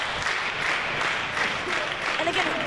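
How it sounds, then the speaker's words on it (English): Applause and cheering fill the room from a wrestling crowd at a Progress Wrestling show in Newcastle, a dense, continuous roar of clapping that holds steady at full volume from start to finish, with voices mixed into the noise. "Listen to this crowd"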